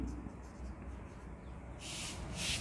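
A pen scratches out the analyzer's circular scale reading of a half shade polarimeter: faint steady scribbling at first, then two louder, hissy strokes across paper in a quiet room.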